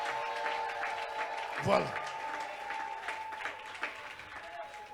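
A church congregation applauds and acclaims Jesus in a steady, moderate wash of clapping while a voice speaks over it.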